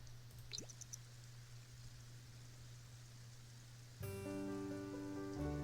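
Steady rain patter with soft drips, joined partway through by a layered tonal hum, like game ambience under a continuous shower.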